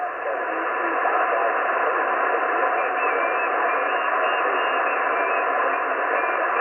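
Amateur radio receiver audio at a portable park operation gives a steady band-limited hiss of static with faint tonal lines running through it, continuous and fairly loud, with no clear voice.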